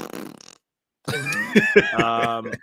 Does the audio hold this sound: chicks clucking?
no